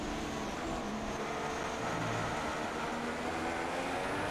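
Racing car engine in the F1 2016 video game during a monsoon-soaked race at Sepang, a continuous muffled hum under a broad wash of noise, steady and moderately faint with no talking.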